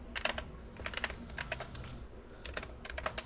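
Code typed on a computer keyboard during a Python programming lesson: close, fairly quiet key clicks in uneven clusters with brief pauses, steady over a low background hum, with no voices.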